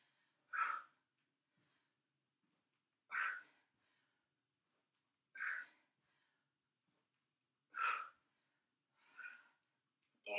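A person doing an upper-body workout takes five separate sharp, breathy exhalations a couple of seconds apart, fairly faint against a silent background, with no talking.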